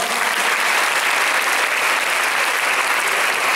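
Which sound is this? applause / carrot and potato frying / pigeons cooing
applause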